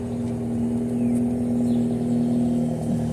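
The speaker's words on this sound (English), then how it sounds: "That's the neighbor's car." A neighbor's car with a very loud muffler idles close by, giving a continuous low droning rumble with a steady engine hum that holds even and fairly loud from start to finish.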